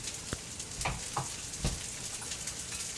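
Bacon fat sizzles in a pan for kimchi fried rice, a soft steady crackle with a few sharper pops and spits standing out over the fry.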